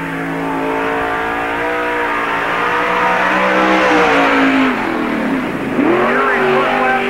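Number 56 NASCAR Busch All Star Tour car on the Park Jefferson Speedway track in 1997, a loud close engine roar with rising and falling revs as it laps, a public-address announcer faintly audible underneath.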